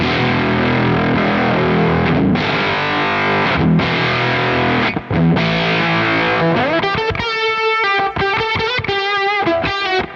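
Electric guitar through an octave fuzz pedal capture on a Quad Cortex, loud and saturated with thick sustained distorted chords, then choppy staccato stabs with a bright upper-octave buzz toward the end; no voices.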